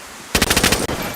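A short, loud burst of rapid gunfire in DayZ on Xbox, about eight quick shots in a tight rhythm, with game-like punchy reports and no talking.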